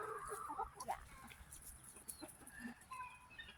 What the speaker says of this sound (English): They're just chickens.